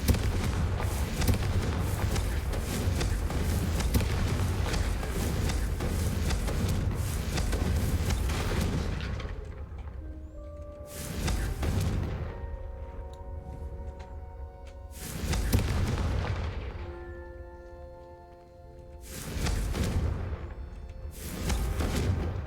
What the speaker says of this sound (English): I suspect a bit more time practicing the blasting curse is in order